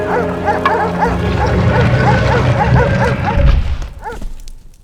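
Jackals bark and yelp repeatedly in a Tomb Raider IV: The Last Revelation cutscene, several loud overlapping yips over a low rumbling ambient bed, fading toward the end.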